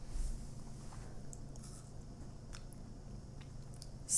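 Biting and chewing on a Russian Mishka Kosolapy chocolate candy, with soft, close crunching and chewing sounds in a quiet room and no talk.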